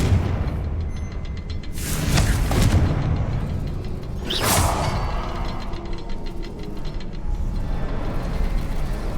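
Confringo fire spell explosions in Hogwarts Legacy, set in ancient ruins: two loud bursting blasts a couple of seconds apart, each with a crackling rush, over a continuous heavy rumble.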